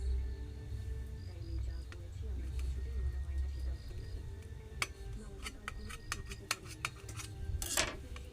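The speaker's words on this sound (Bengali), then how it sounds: "এবার এই ডিমটাকে আমি পিস করে নেব।" A knife halves peeled boiled eggs on a board, producing a series of small, sharp clicks and taps close by, with light clinks of metal against dishes toward the end, against a quiet kitchen background.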